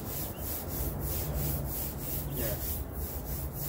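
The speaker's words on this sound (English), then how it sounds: "Okay, so I'm gonna sand the top now." Sandpaper rubbing over Bondo body filler on a car quarter panel, a steady, close, continuous scraping with a regular back-and-forth rhythm and no pauses.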